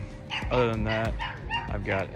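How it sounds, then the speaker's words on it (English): A dog barks and yips in the background near a Ford Maverick pest-control work truck, several short bursts overlapping someone talking up close. "sorry for the dog barking in the background,"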